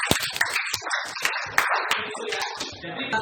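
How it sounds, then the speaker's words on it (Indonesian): A classroom breaks into hand clapping, scattered, close claps in an uneven patter that is fairly quiet, with a few sharper slaps standing out. "Betul, tepuk tangan."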